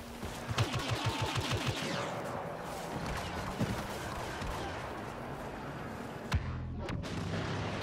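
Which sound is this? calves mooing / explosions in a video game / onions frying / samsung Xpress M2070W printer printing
explosions in a video game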